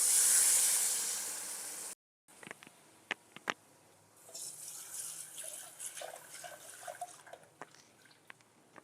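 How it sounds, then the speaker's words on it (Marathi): Water gushes loudly and steadily into a cooking pot for about two seconds, then cuts off. Quiet clinks and soft kitchen handling noises follow. "मी पातेलीतच पाणी घेऊन टाकलेलं आहे त्याच्यात थोडंसं"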